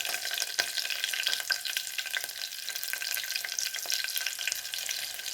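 Green chillies and curry leaves frying in a hot pan, a steady crackling sizzle with sharp pops and spits throughout, close and continuous with no voices.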